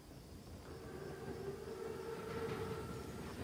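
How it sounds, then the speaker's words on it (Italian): A large German armored train, a Panzerzug, rolls along in a World War II shooter game with a steady low rumble and faint metallic tones underneath. "È un treno così grande e così corazzato. È un Panzerzug."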